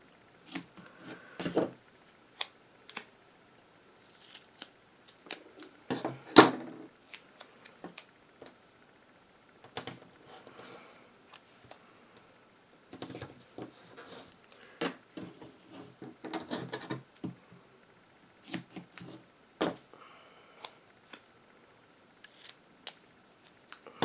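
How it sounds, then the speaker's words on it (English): Scattered crisp snips and clicks of paper scissors cutting, irregular and close, with quiet pauses between bursts and no speech. "Use my paper scissors."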